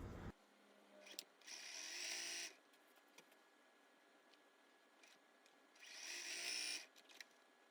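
A sewing machine runs in two short bursts, stitching quilt fabric pieces for a linked-hearts table runner, with quiet handling noises in the pauses between; no voices.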